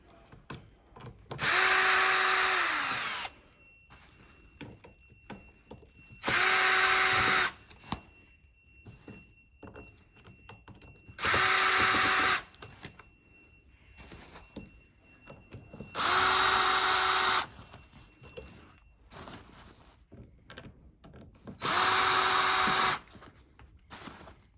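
Cordless power drill undoing screws on a runner seat unit: five separate loud whirring bursts of about two seconds each, evenly spaced, with quiet handling clicks and rustles between them, and no talking.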